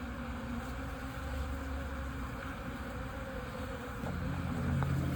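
Honey bees, drones among them, swarm around open hives at a beekeeping farm, a dense steady buzzing drone that holds evenly throughout, fairly near and without talk.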